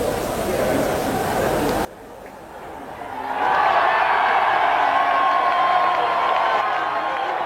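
Adoring British crowd at the 1991 British Grand Prix cheering and roaring in a broad, sustained swell after a brief burst of noise, with a commentator's voice talking over it.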